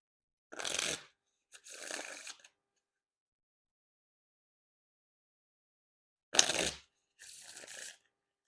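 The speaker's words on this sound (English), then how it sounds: "And now time for the Riffle Shuffle or Bridge Shuffle." Two pairs of brisk riffle shuffles of a Black Smoke and Mirror 15th Anniversary Edition playing card deck, each a short burst of rapid flutter followed by a softer cascade, separated by several seconds of silence.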